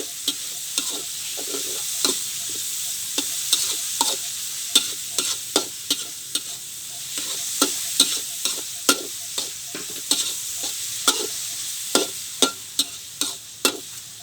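Pork is stir-fried in a hot pan for Thai yellow noodles, with a constant sizzle. Sharp, rhythmic scrapes and clacks from the spatula come every half second or so, and no one speaks.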